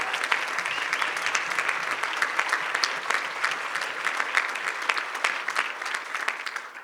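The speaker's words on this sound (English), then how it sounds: "Can we get some claps for that?" An audience at a panel event on abortion in Florida claps steadily, a full, even rattle of many hands that carries on for several seconds without speech over it.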